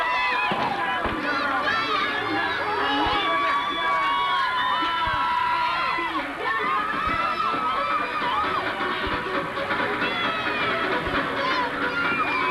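A wrestling crowd at an Empire Pro Wrestling show cheers for Bagwell, with a lively mix of shouts, whistles and whoops that stays busy and fairly close throughout.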